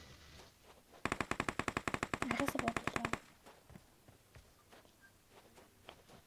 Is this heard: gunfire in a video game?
yes